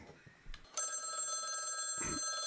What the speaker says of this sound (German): Oh, mein Telefon klingelt.